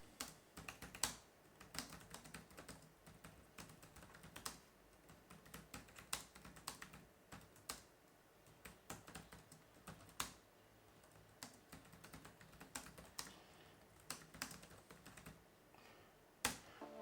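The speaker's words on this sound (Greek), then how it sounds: "Αυτό λοιπόν είναι το πώς ακούγεται το πληκτρολόγιό μας." Keys on an HP 255 G7 laptop keyboard clatter in quick irregular bursts of sharp clicks, close up, with brief pauses between runs and no talking.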